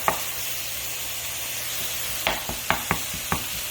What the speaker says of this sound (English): You want to break the sausage up in the pan as it's cooking